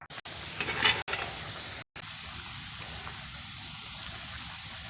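Crabs cooking in a pot of boiling water give off a steady, close hiss and bubbling rush that runs unbroken through the whole stretch, broken only by a few brief dropouts early on.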